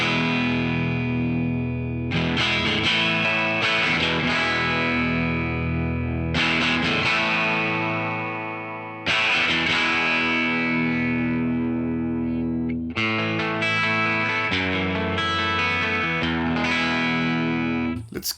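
Electric guitar played through the Genome amp simulator with the treble turned all the way down, giving dark, distorted sustained chords struck in several loud phrases with pauses between them and no talk.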